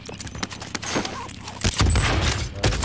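Enemy gunfire in the video game Call of Duty Modern Warfare: scattered shots and thuds, then a denser burst of rapid fire that grows louder near the end.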